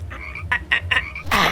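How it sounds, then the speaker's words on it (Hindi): A cartoon frog croaks in a quick series of four short, loud, raspy bursts, followed by a louder burst of noise. "मेंढक"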